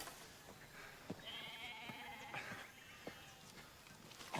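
A goat bleats once in a drawn-out, wavering call, faint and somewhat distant, with a few soft knocks and a quiet background around it.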